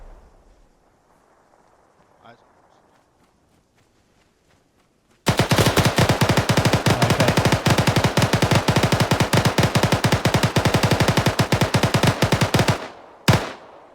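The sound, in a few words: gunfire in the video game Arma 3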